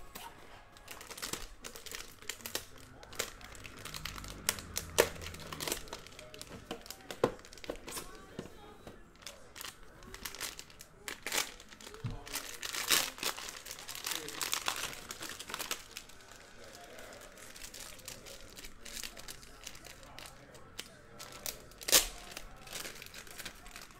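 Packs of 2019 Topps Tribute and Elite baseball trading cards are torn open, with close, quiet crinkling of foil wrappers and sharp ripping bursts throughout, and talking over much of it.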